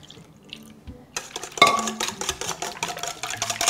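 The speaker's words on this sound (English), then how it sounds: "I'm going to add the milk" Cold milk pours into whisked eggs in a bowl for a Mexican beef casserole, a quiet lead-in that breaks into a splashing, gurgling liquid stream with clinks, close and moderately loud.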